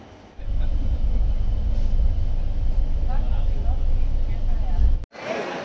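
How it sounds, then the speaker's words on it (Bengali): A train rolling into Sealdah railway station in Kolkata, a steady low rumble and rattle of the carriages with faint background chatter, cutting off abruptly near the end. "মাত্র হচ্ছে ট্রেন শিয়ালদা স্টেশনে ঢুকতেছে, এখনও ঢুকে নেই আর কি"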